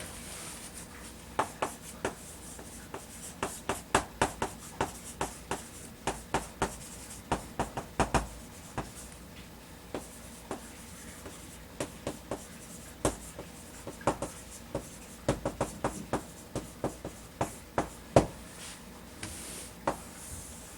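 Marker or chalk strokes on a board during an English grammar lesson: quick, irregular taps and scratches in short bursts, close and fairly faint, with no talking.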